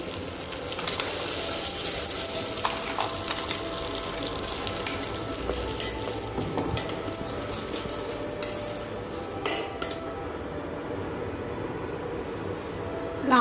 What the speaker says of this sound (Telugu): వేసుకున్నాక దీని బాగా కలుపుకోవాలి